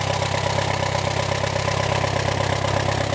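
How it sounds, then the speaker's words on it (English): A 1952 Case tractor engine idles steadily after a cold start, a low, even mechanical chug with a constant throb that holds at the same level throughout, with no voices. "Power steering pump."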